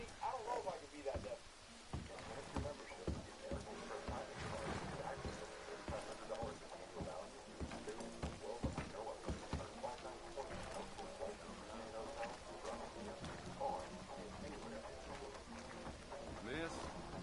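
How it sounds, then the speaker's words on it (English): Steady rain falls in the Red Dead Redemption 2 video game, a continuous patter on surfaces around a farmstead, with chickens clucking now and then beneath it. "I hate this damn rain."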